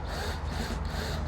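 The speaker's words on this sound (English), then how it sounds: "Basically just drilling a pilot hole just to get through the actual aluminium surface." A steady, grinding drill bores a pilot hole into an aluminium surface, the harsh whirring noise close and unbroken throughout.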